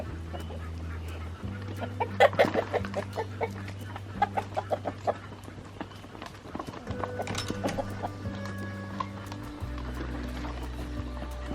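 Chickens cluck and chatter in short, scattered bursts under a steady low hum, the morning after a storm with heavy rain in the Missouri Ozarks, with occasional louder calls standing out nearby.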